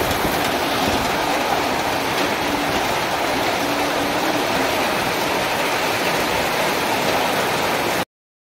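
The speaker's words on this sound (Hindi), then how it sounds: "पूरा जोरसोर चलती वर्षा" Heavy monsoon rain pours down steadily outside a home kitchen, a dense, continuous hiss and patter that stays loud and even throughout with no voices.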